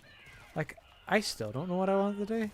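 A vocal flame point Siamese cat gives a couple of short meows and then a long, drawn-out meow with a clear tone, close and loud, while a person speaks softly in between.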